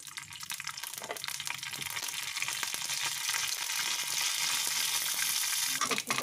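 Mustard seeds crackle and sizzle in a spoonful of hot oil, a dense continuous frying hiss with scattered pops that grows slightly louder toward the end.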